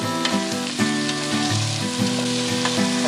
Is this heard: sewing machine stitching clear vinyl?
no